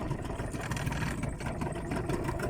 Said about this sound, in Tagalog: aatras po yung makina natin